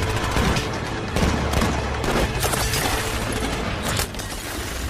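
Gunfire in an action film scene, rapid sustained bursts of automatic shots with booming impacts, loud and continuous with no talk.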